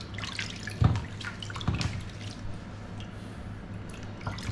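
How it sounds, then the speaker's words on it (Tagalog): Fried mackerel is rinsed in salt water with soft splashes and drips, two louder sloshes standing out over a quiet, steady trickle. "At parang inaugasan natin sa salty salt water."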